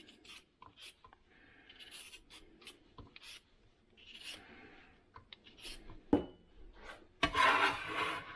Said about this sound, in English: Let's peel some potatoes.